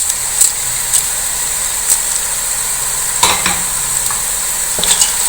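Onions frying with garam masala for a chicken chana pulao, a loud steady sizzle under repeated scraping stirs and occasional utensil knocks, close by with no speech.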